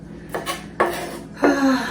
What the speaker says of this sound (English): And I chop it finely.